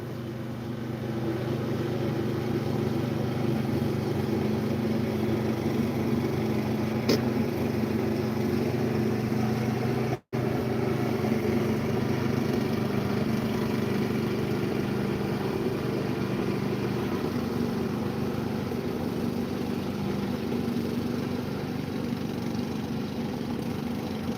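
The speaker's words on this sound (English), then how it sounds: "he's going to mow up here too. He's going to be all extra loud in my video." A neighbor's lawn mower drones steadily nearby for the whole stretch, a continuous engine hum with no talking over it.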